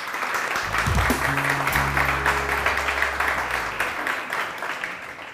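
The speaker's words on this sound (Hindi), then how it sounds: "बहुत सारी तालियां रमशा के लिए।" Studio audience applause for a guest named Ramsha on a Pakistani TV morning show, a dense steady clapping wash that runs throughout, with low musical tones underneath early on.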